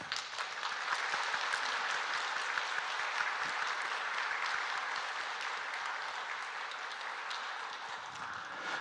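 A church congregation applauds during an Easter worship service, a steady, dense wash of clapping that holds evenly for several seconds, without talk.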